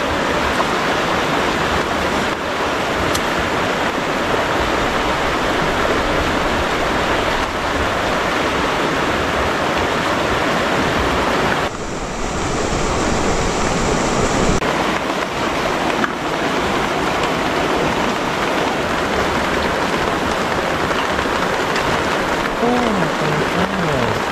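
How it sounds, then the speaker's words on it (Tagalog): Rain falling at a riverside campsite, a steady dense hiss of drops close by with flowing water beneath, continuous and fairly loud for the whole stretch with a brief dip midway. "umuulan na at patulo-tulo na"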